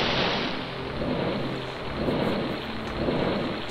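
Steady, rushing splashes of water in the horror game Spooky's Jumpscare Mansion, a dense, continuous wash that swells and ebbs slightly throughout.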